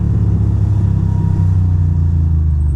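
A motorcycle engine rumbles close and loud in New York City traffic, holding a steady low drone with slight variations in throttle for a few seconds; no one speaks.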